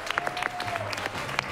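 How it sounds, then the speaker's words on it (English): Audience at an improv comedy show claps and cheers as a performer returns to the stage, a short burst of scattered, fairly close clapping with a faint voice underneath. "Give him a round of applause."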